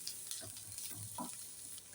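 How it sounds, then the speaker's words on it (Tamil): Green chillies and curry leaves frying in a pan with onions, a faint soft sizzle under a few brief stirring scrapes, quiet and close with no talking. "போட்டு ரெண்டையும் ஒன்றா சேர்த்து கிளறி விடலாம்."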